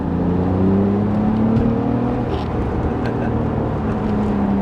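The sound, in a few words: BMW Z3 engine accelerating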